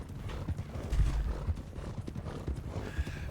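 Horse hooves clip-clopping steadily in Red Dead Redemption 2, with heavy, loud breathing and an occasional whinny underneath, close up and with no talking.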